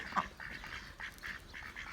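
Ducks quack repeatedly in a steady, nasal series at moderate distance, over a light outdoor background hiss.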